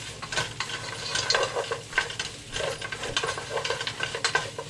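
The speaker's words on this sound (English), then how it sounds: "You have to start stirring it at this point so it doesn't get stuck at the bottom." Pilau rice with meat stirred in a pot, a spoon scraping and turning the grains in a steady run of soft, textured scrapes and clinks over a faint sizzle.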